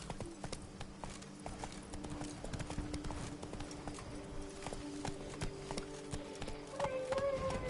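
Roach, the horse in The Witcher 3: Blood and Wine, trots with steady, close clip-clop hoofbeats, with game sounds behind and a brief tonal chime near the end.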